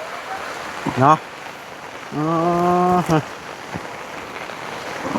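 Rain falls steadily in a constant soft hiss while someone speaks briefly over it in a couple of short bursts.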